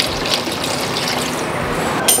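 Tamarind water pours steadily into a pot, a continuous watery splashing rush that ends with a brief brighter splash.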